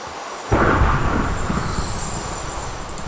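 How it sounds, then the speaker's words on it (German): Thunderstorm in Minecraft: after a brief hush a sudden loud rumbling crack of thunder breaks in and rolls on as a sustained low roar that slowly fades. "Volles Gewitter reingekommen"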